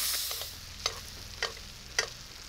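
Halibut from Roan fries in plenty of butter in a pan, a steady close sizzle broken by three soft evenly spaced taps or spatters, with no talking.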